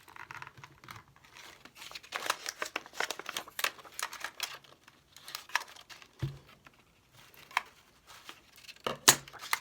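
Scissors snipping through journal papers, with intermittent crisp cuts and paper crinkling in short bursts, quiet and close, a few sharper snaps near the end.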